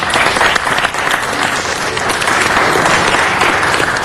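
Dense, loud applause filling a city council meeting room, a continuous wash of many hands clapping together without pause throughout.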